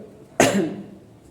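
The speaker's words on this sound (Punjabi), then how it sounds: "ਜੇ ਆਪਾਂ ਬੋਲਦੇ ਆ ਨਾ ਜ਼ਿਆਦਾ ਤਾਂ ਖਾਂਸੀ ਉੱਠਦੀ ਹੈ" One sharp, fairly close cough from a woman who coughs after talking too much, a single harsh burst tailing off into a quieter room.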